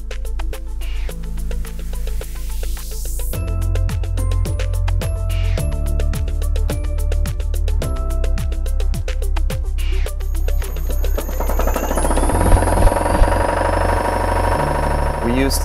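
Super Junker vibration test machine loading large bolted joints up to M48, a loud steady mechanical drone with rapid rhythmic thumping pulses through most of the stretch, shifting to a higher whining tone near the end.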